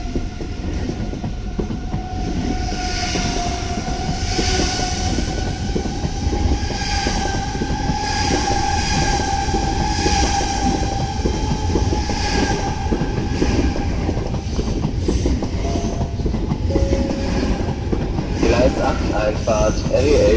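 A BR407 train rumbles and clatters departing Dortmund Hauptbahnhof, steady and loud, with squealing wheel tones and a German station announcement over the noise.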